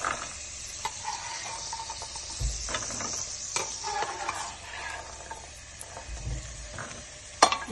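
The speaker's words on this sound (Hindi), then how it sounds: "सारे ड्राई फ्रूट जो हैं हमारे, इसको हमने रोस्ट कर लिया" Almonds and other dry fruits roast in a pan over low heat, with soft intermittent scraping and stirring and a faint sizzle at close range.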